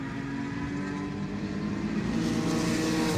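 Race cars on a New Jersey Motorsports Park endurance track, an open-throttle BMW among them, roar in a steady, dense engine drone that swells slightly, heard from a distance with no talking.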